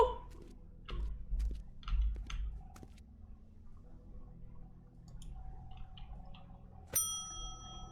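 A bright doorbell ding rings out once near the end in The Wolf Among Us video game, after several seconds of quiet scattered clicks and soft rustling.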